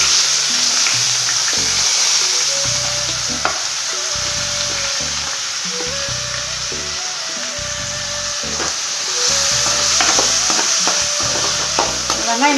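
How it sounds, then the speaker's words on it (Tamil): Onions frying in hot oil with cinnamon and cloves for a mushroom masala gravy, a steady loud sizzle with repeated scraping and stirring strokes throughout, close up and without talk. "இப்போ நம்ம வெங்காயம் சேர்த்து வதக்கலாம்."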